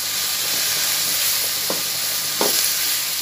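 Chopped green chillies are stir-fried with chicken spaghetti in a hot pan, producing a loud, steady sizzle with a couple of brief scraping stirs.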